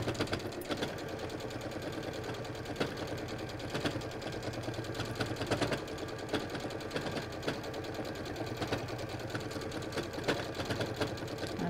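A domestic sewing machine runs steadily, stitching along a ruffle on a fabric bag or cushion, with a continuous mechanical whir and rapid needle chatter across the whole stretch, fairly close and unbroken by talk.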